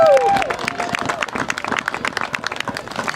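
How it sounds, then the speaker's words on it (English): Crowd applause and cheering at a senior recognition night for senior player number 62, Matt Hammond, moderately loud scattered clapping filling the space with a brief high tone at the start. "How about a big round of applause for number 62, Matt Hammond."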